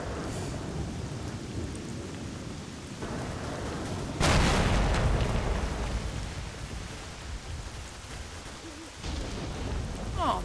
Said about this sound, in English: Oh, this thunder is right on cue.